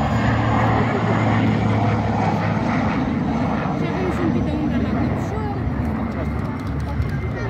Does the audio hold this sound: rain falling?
no